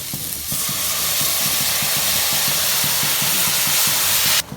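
Juice pours into a hot frying pan and sizzles loudly and steadily, a close, continuous hiss that cuts off abruptly at the end, with no voices.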